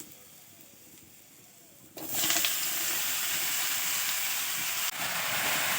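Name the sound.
pumpkin being added to a pan and mixed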